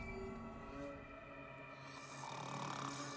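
A character snoring in Assassin's Creed Valhalla, a slow, droning, rumbling snore that rises and falls over a steady hum of background game ambience, no talk.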